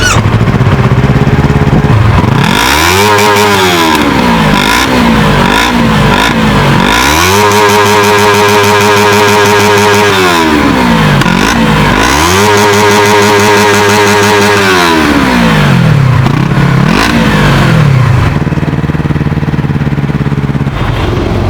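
An Eligator 250cc dual-cylinder EFI DOHC motorcycle engine idles close up, then is revved in four or five sweeping throttle blips that rise and fall, settling back to a loud idle between each.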